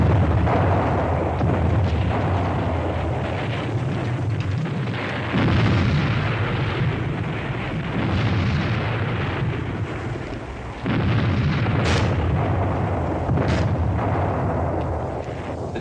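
Artillery barrages and explosions from a 1945 Battle of Manila war film, a continuous loud rumbling bombardment with heavy booming blasts and sharp cracks near the end.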